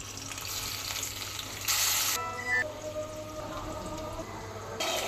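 Dried red chilies and chopped onion hit hot oil for a tempering, releasing a steady frying hiss with short bursts of louder sizzle and faint stirring underneath, no talking.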